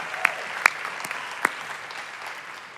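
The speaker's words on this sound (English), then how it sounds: "I just want to give her another round of applause" An audience applauding the president and CEO of a public radio network at an event, a thin scatter of claps with a few sharp, close hand strikes over a soft background patter that tapers off.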